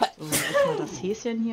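One sharp, loud sneeze bursts out near the start, and someone speaking German carries on right after it.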